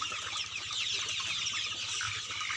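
Broiler chickens about eight weeks old clucking on a poultry farm, a constant murmuring flock of soft clucks and chirps with a low machine hum underneath, steady and moderately loud.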